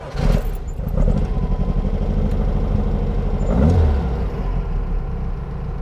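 A 1963 Volkswagen Beetle with a 120 hp dual-carburettor engine fires up close by and settles into a loud, throbbing run, with a sharp rev blip near the end.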